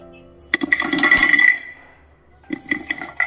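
A crispy fried potato roll samosa crunches up close in two bursts: a longer crackly break, a brief pause, then a shorter series of crisp snaps.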